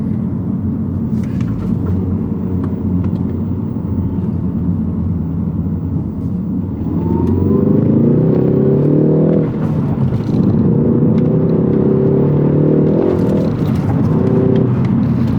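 A Ford Focus ST Track Pack is driven hard through a set of corners, its engine droning steadily before the revs surge and climb loudly, dipping briefly between pulls, with no voices.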